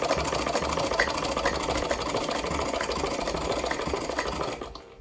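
A USHA hand-operated straight-stitch sewing machine runs continuously, its fast mechanical clatter of needle and gears steady and close for several seconds before slowing near the end.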